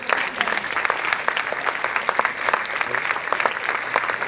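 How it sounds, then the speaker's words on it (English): An audience at a film screening applauds as the cast and crew come out for a Q&A, steady crowd clapping with sharp individual claps standing out, continuous and fairly close throughout. "A round of applause."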